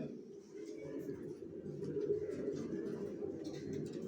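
Racing pigeons coo softly in a loft, a low continuous burble of overlapping calls that runs steadily throughout at moderate distance, with no talk over it.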